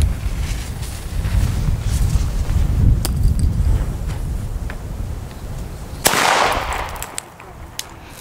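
A Spanish El Gato Masclet Faller firecracker bursts outdoors with one sharp, loud crack, heard over steady wind and rumbling background noise.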